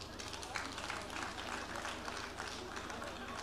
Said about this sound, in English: I thought you guys would have clapped for the president.